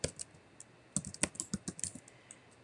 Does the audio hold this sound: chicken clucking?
no